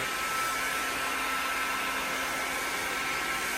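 A hot air gun heating the bushing of a Showa Big Piston motorcycle fork on a KTM-based EBR 1190, blowing a loud, steady whooshing roar without pause.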